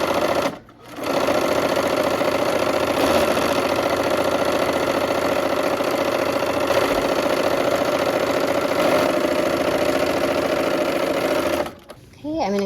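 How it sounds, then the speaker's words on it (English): Sewing machine stitching quilt pieces, running steadily and close for about eleven seconds with a brief pause near the start and a stop at the end, a steady mechanical whir throughout. "Okay, let's go ahead and sew."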